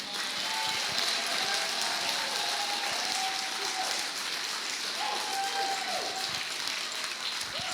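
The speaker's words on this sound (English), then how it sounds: "a round of applause for Martin, please" Sustained audience applause at a testimony gathering greets a speaker named Martin, a dense, steady wash of clapping that fills the room at even loudness throughout, with faint voices mixed in.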